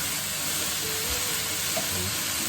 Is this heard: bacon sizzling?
yes